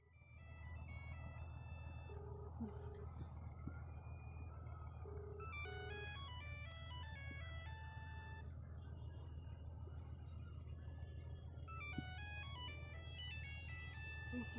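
A mobile phone rings in a Bhojpuri comedy skit: a quiet, repeating electronic melody of beeping tones plays steadily over a constant low hum.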